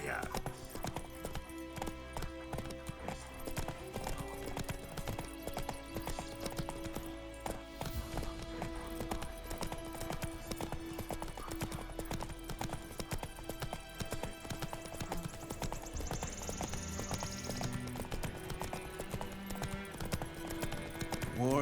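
Rhythmic hoofbeats of Roach, the horse in The Witcher 3, running steadily under game music and character dialogue, with an occasional whinny.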